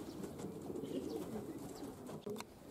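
Young pigeons coo softly and steadily inside a loft, a low murmuring bed of calls with a few faint flutters near the end.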